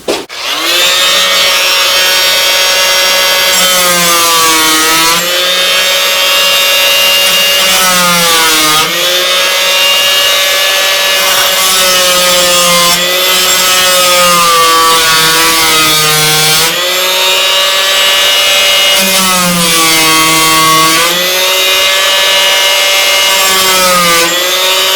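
A saw cuts around the foot of a split wooden bowl, a loud, steady, close grinding whine with a few brief dips in pitch and no speech.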